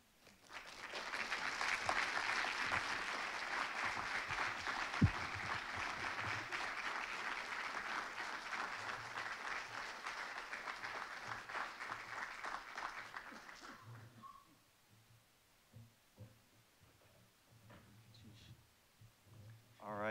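An audience applauds at the close of a keynote talk at a symposium, a broad steady ovation lasting about fourteen seconds before fading into faint room noise and scattered sounds.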